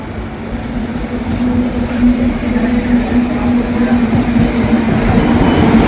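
A train rolling into a station near Dum Dum, Kolkata, a loud continuous rumble with a sustained wheel squeal and rhythmic clatter on the rails.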